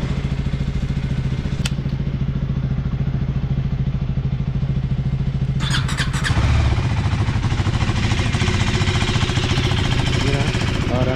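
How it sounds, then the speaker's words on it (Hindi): A KTM Duke 250 Gen3 motorcycle is cold started and left idling nearby. The low, throbbing engine rumble is steady, then steps up in loudness and roughness about halfway through. "तो थोड़ा इसको भी कोल्ड स्टार्ट कर लेते हैं एक बार।"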